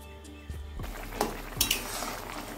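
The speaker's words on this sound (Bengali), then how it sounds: "এবার আমি দিয়ে দিচ্ছি কেটে রাখা শিমগুলো।" Chopped flat beans tipped into a simmering curry in a pan, giving a few clattering knocks of utensil against metal over a low steady bubbling sizzle, close and moderately loud.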